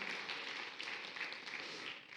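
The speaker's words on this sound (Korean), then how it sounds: "우리 다시 한번 격려의 박수로 인사하시겠습니다" A church congregation applauding at a Sunday service, a steady, dense wash of clapping that holds evenly throughout without pause.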